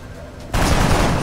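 Gunfire in XCOM erupts abruptly as a loud, dense volley of shots after a quieter lead-in, continuing as a sustained roar to the end.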